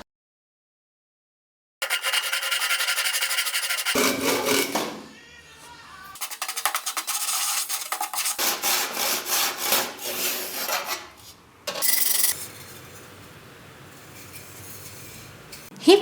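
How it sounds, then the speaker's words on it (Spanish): Wooden slats for a DIY industrial table are cut with a hand saw in long rasping strokes that start and stop, loud and close, with brief quiet gaps between cuts. "También necesitamos cortar unos cuantos listones para que las 2 tablas de la base queden bien unidas"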